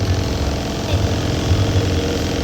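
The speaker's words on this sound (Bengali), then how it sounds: "দেখ ইঞ্জিনটা চালিয়ে রেখে দিয়েছে ঘরঘর করছে" A bus engine left idling, a steady low rumbling drone with a faint pulsing throb, close and continuous with no break; no talk.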